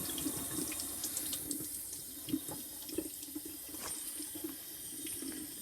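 Tap water runs steadily into a sink while an egg is gently rubbed and rinsed under the stream, a continuous close splashing with small irregular spatters and no talking.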